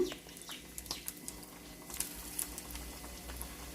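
Chopped onion and green chillies splutter in hot oil, giving soft, scattered crackles and pops over a quiet, steady fizz.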